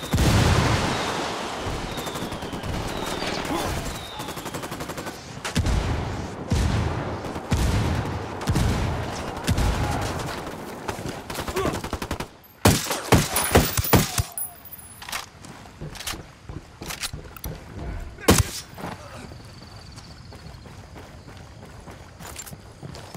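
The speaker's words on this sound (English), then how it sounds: "I called the rebels for mortar fire." Mortar and gunfire in the Ghost Recon Wildlands video game: a burst of rapid, loud gun volleys followed by heavy booming impacts and scattered sharp shots, with a brief voice underneath.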